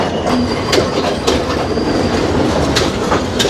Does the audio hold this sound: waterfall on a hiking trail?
no